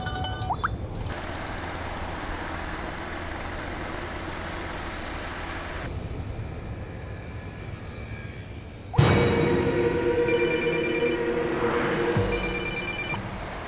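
A mobile phone rings inside a moving car, its tonal ringing rising out of steady road and engine noise after a sudden loud change partway through.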